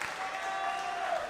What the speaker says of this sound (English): So, big round of applause for all of you guys,